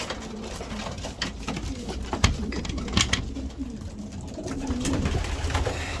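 Racing pigeons cooing in a loft, several soft throaty coos overlapping close by against a background of shuffling and wing movement.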